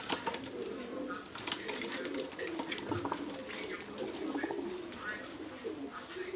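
Teddy pigeons coo close by in a loft, their low rounded calls repeating softly. Scattered clicks and light rustling come from the birds, and someone talks over them.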